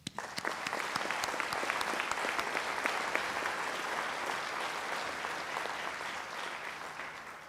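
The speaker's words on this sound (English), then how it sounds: "I just want to give you guys another round of applause" A crowd applauds at a high school National Honor Society induction ceremony, starting with a few sharp claps and swelling into a sustained, even round of clapping that fades gently toward the end.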